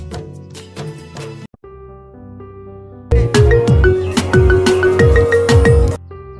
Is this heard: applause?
no